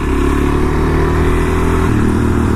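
A Suzuki DR-Z motorcycle rides along a road with a steady, loud engine drone, its pitch dropping slightly near the end as the rider eases off, with wind rumble close to a helmet-mounted mic and no talk.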